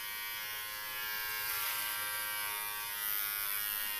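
Steady electric clipper buzz running continuously while cutting the top of a person's hair, close and fairly loud, with a bright high whine and slight swells as it cuts.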